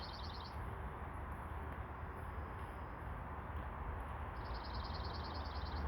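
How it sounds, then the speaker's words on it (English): Short bursts of high bird chirping at the start and again near the end, faint over a steady background rumble of a barbecue grilling top sirloin steaks. "There's a bird chirping in the background."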